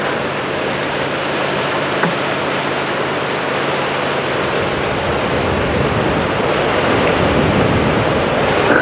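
Wind roars steadily across the microphone during an afternoon safari drive at Djuma Game Reserve, a loud, even, rushing noise throughout with no talk.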